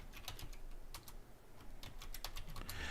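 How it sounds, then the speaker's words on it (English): Close, fairly quiet typing on a computer keyboard, an irregular run of quick key clicks and taps over a few seconds with no one speaking. "Let me get the names typed in here"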